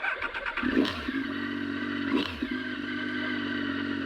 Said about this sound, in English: Always warm up your bikes, kids.